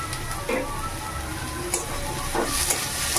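White eggplant frying in oil in a pan, a steady close sizzle throughout with a few brief stirring clatters and spatters.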